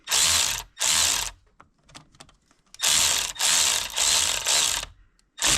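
A ratchet snugging down bolts on the aluminum thermostat housing of a 2021 Jeep Wrangler JL 2.0 engine: several loud, close bursts of rapid clicking separated by short pauses and faint clatter.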